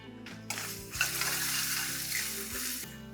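Sliced onions with ginger garlic paste and turmeric sizzle and fry steadily in a pan, with a near, continuous crackle and occasional stirring scrapes, no voices.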